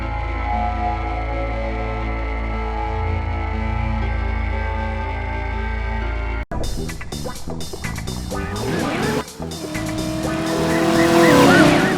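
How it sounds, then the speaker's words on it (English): Engine roar and sharp tire squeals from a police car chase in the 1999 PS1 game Driver, after a steady engine drone gives way to a loud burst of skidding and revving that builds toward the end. "you can direct very good stunt drives and car police chases"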